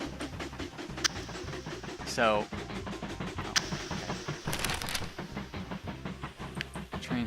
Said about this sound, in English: we're going to wait for this train to pass before I send this one out